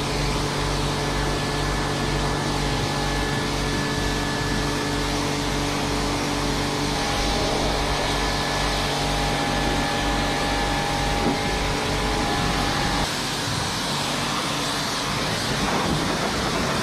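Washing off a tractor produces a steady, loud, continuous hiss and drone, like a pressure washer running, lasting the whole stretch with a change in tone near the end and no talking.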